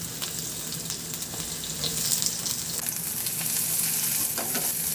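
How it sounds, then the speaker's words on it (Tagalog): Garlic and ginger sizzle and fry in hot oil in a pan, a steady close crackle with occasional stirring scrapes and no talking. "Magpainit muna ako ng mantika sa kawali at igisa ko na yung bawang at luya."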